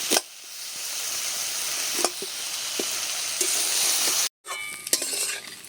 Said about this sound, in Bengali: বেশ কিছুক্ষণ ধরে কচুর ফুলটাকে একটু ঘেটে নিয়েছি।